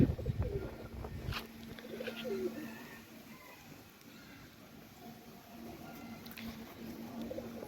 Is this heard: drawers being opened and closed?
no